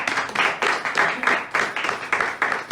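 An audience at a weekly meeting in Noida Sector-93 claps in welcome for a guest, a steady, fairly brisk patter of many hands at moderate volume, with no voices over it.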